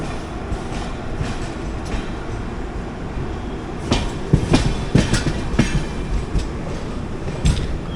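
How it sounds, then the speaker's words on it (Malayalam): The 12126 Pragati Express coasts down the ghat near Lonavala with a steady, loud rolling rumble and rhythmic clickety-clack of wheels over rail joints, sharpening in bursts of metallic clatter. "ശ്രദ്ധിച്ചു നോക്കിയ ട്രെയിൻ ഇറങ്ങുന്ന കാണാം നിങ്ങൾക്ക്"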